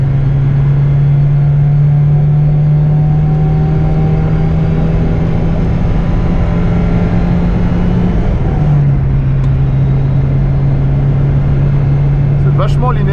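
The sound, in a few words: Peugeot 205 Turbo 16 Série 200 driving and accelerating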